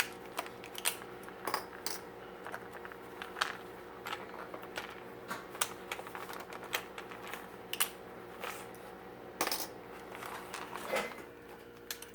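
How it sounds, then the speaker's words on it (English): Metal binder clips are unclipped and pulled off folded paper book signatures, giving a series of sharp metallic clicks and snaps at an uneven pace, close by, over a steady background hum. "I'm going to take my binder clips off because I need these"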